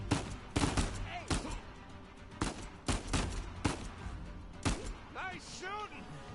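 Rapid, loud gunfire cracks repeatedly in Uncharted 4, irregular shots clustered close together amid a gunfight, with voices calling out between the bursts.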